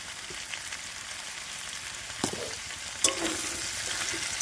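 Taro roots stir-fried with salt in a pan give a steady close sizzle, with a few sharper scrapes and knocks as the utensil moves them, no talking.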